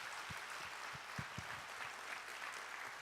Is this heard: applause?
yes